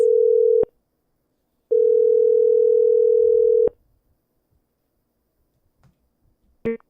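A telephone line gives a steady electronic tone, a short burst, then a longer two-second tone. Near silence follows, with faint low rustles, then a brief clipped sound at the end.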